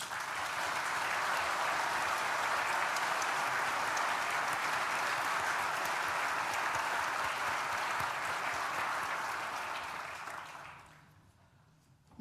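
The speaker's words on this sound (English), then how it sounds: "Please join me in thanking them with a well-deserved round of applause." Applause at a university graduation ceremony for architecture, design and built environment graduates. A large crowd claps steadily and evenly for about ten seconds before the sound fades out quickly.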